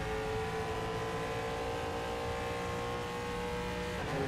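A GTE race car in rFactor 2 holding a steady, loud engine drone at top speed, an even sustained whine with a slight shift near the end.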